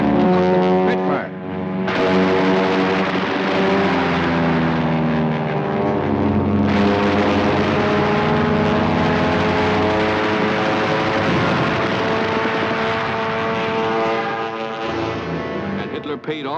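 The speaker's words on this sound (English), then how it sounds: "Spitfire." Engines of Spitfire fighter planes over wartime Britain during the Battle of Britain drone loudly and continuously overhead, a heavy, steady roar whose pitch slowly bends as the aircraft pass.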